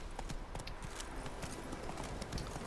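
Roach, Geralt's horse in The Witcher 3: Hearts of Stone, gallops in a steady, rhythmic clip-clop of hooves, close and distinct against faint background ambience.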